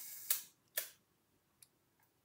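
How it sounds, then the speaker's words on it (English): A Rolleiflex camera shutter is cocked and released, giving two crisp mechanical clicks followed by fainter ticks, close and quiet with no talk. "I can go backwards because it releases the lock, so I can cock again the shutter"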